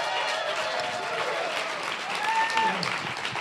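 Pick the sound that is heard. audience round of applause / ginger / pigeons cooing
audience round of applause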